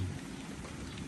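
Steady rain falling and pattering on a surface, driven by wind, a dense continuous wash of drops heard close with a low rumbling undertone and no talk.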